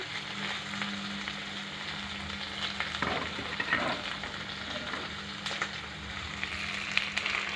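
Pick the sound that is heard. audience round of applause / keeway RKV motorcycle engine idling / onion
onion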